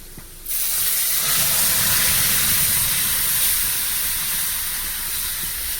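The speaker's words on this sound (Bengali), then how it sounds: "এবার পেঁয়াজটা লাল লাল হয়ে গেছে, এবার আমি ডাল পুঁই শাকটা তুলে দেবো।" Malabar spinach stems go into a pan of browned frying onions, setting off a sudden loud, steady hiss of sizzling that stays strong and close until the end.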